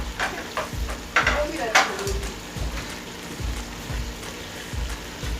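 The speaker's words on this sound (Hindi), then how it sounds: "हम इसमें ज़रा मोटा सा अदरक डालेंगे और इसको फ्राई करना है" Thick-cut ginger frying in a pot for chicken pulao, a light sizzle under repeated scraping stirs that come in regular strokes about every second, close and moderately loud.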